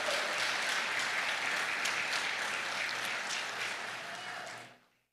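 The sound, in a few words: audience applause in church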